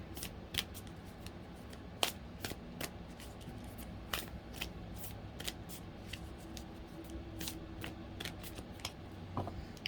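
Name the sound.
shuffling lantern oracle cards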